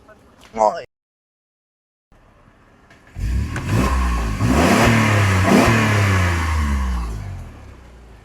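A 2009 Mercedes CLS with the 3.5-litre M272 V6 revs up close by, climbing into a strong sustained roar for several seconds before easing off, after a short burst of talk and a quiet pause.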